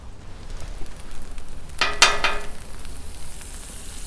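Butter sizzling on a hot Blackstone griddle, with a sharp burst of crackling hiss as it hits the surface that peaks and then settles into a softer steady fizz.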